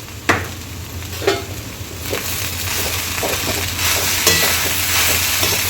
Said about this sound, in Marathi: आणि पुन्हा दोन मिनटं परतून घ्यायचं आहे